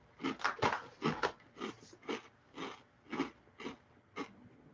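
Crunchy buttered mushroom snack chewed close to the mic, about ten distinct crisp bites and crunches in an uneven rhythm, no speech.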